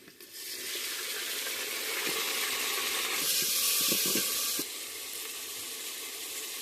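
Small tribal-grown tomatoes go into a pan of frying onions, setting off a loud, steady sizzle that surges for a few seconds, then settles to a lower hiss, with no talking.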